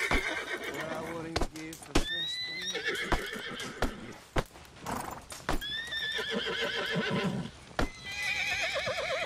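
Horses in Red Dead Redemption 2 neigh and whinny several times, with clip-clop hooves throughout, under conversation between men and occasional sharp clatters.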